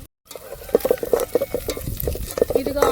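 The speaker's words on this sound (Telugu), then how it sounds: "ఆనియన్స్ వేస్తున్నాం, పచ్చిమిర్చి, కరివేపాకు కలిపేసుకోవాలి." Onions, green chillies and curry leaves frying in a pan give off a close, crackling sizzle, broken up by rapid stirring clatter over a few seconds.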